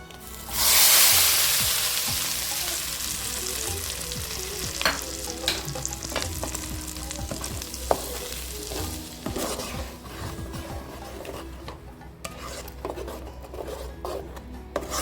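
Spicy tomato thokku sizzles and fries steadily in a pan, with a loud burst as it first hits the heat, followed by continuous crackling and intermittent scraping strokes of a spoon stirring the thick mixture.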